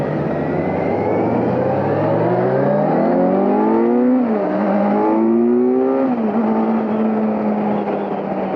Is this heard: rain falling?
no